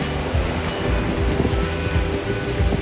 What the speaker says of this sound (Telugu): ఈ అలల శబ్దం వింటుంటే చాలా పీస్గా అనిపించింది.